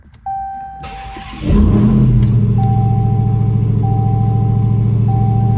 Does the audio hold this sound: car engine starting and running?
yes